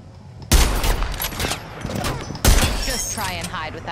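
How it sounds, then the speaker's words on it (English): Gunfire in the Apex Legends battle royale video game, with two sharp bursts of shots at the start and midway, each trailing into a dense crackle of battle sounds while a voice talks over it. "Opening fire."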